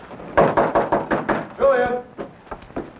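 Knocking on a door, a quick series of firm raps repeating in bursts, fairly close and loud, with a voice breaking in partway through.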